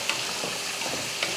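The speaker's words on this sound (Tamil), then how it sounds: "அப்பப்போ இந்த மாதிரி கிளறி விட்டுறணும்." Brinjal and masala sizzle steadily in a hot pan while being stirred, a continuous close frying hiss with soft scraping movements.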